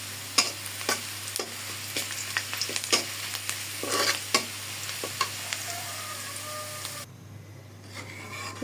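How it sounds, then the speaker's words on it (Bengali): Dal being tempered in a hot pan gives a loud burst of sizzling and frying with scattered crackles and stirring clicks, then drops to a quieter fizz near the end; no talking. "ডাল বাগার দিয়ে দিলাম"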